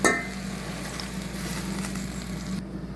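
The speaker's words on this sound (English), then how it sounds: "Now we're gonna add garlic into our pan" Garlic fries in a pan as a steady close sizzle with a faint hum underneath, opening with a brief clink and stopping short near the end, with no talking.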